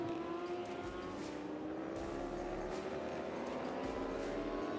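Racing motorcycles at the 24 Heures Motos endurance race, a steady loud engine roar with rising and falling pitch as machines pass on the circuit, continuous throughout without speech.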